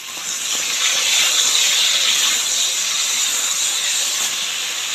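Eggplant frying in a small amount of oil gives a continuous, bright hissing sizzle that stays fairly loud and even throughout, with no talking.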